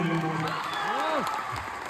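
Applause from the audience at an awards event in Raipur, a steady wash of clapping with a voice speaking over it.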